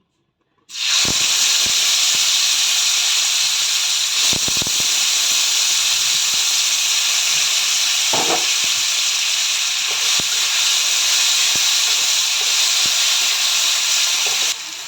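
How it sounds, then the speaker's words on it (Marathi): Finely chopped tomatoes sizzle loudly and continuously in oil on a hot griddle after a sudden start, a strong steady hiss with a few faint clinks. "आपण तव्यावरती थोडंसं तेल घालून जो आपण बारीक चिरलेला टोमॅटो होता तो चांगल्या प्रकारे यावरती भाजून घेऊ"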